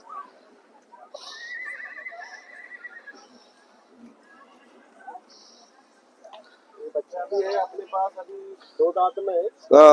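A male horse at the Sarangkheda horse market whinnies briefly, followed by snorts and louder blowing sounds near the end, with faint voices in the background.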